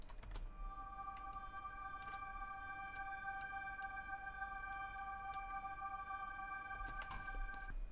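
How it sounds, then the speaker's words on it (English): Synth power chords played on a free Flex patch in FL Studio, run through a phaser at about 40% mix and an EQ trimming lows and highs, held as a steady, quiet sustained drone with faint ticking clicks over it. "For some ambience, I play some power chords on a free flex patch."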